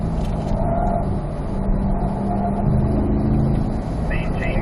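A C8 Corvette's engine drones steadily on a racetrack in fourth gear, a sustained low cabin hum under continuous talk from people inside the car.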